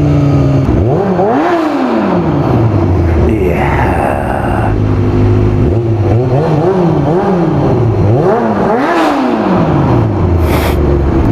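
A Yamaha R1 motorcycle engine is loud and close, revving repeatedly through the gears, with rising and falling exhaust tones and a brief spoken word.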